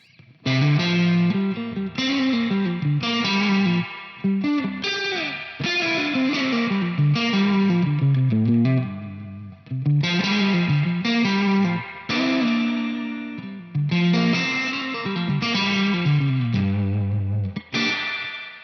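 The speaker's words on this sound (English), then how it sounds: "That is a lot of reverb, but it just sounds really, really good." Electric guitar chords ring out in repeated phrases through a TC Electronic Combo Deluxe 65 amp, washed in heavy reverb that lets each strum trail and blur into the next.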